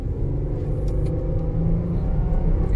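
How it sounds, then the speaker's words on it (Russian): A six-cylinder car engine accelerating as the throttle is pressed, a steady low rumble heard from inside the car throughout. "Вот нажимаем на газ."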